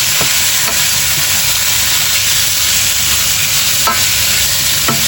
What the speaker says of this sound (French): On va laisser fondre le beurre, on va rôtir avec le beurre.